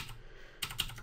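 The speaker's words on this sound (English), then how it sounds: "So the moment I start typing in here now" Computer keyboard typing while entering search text in a web app, a quiet stretch followed by a short burst of several close, crisp key clicks near the end.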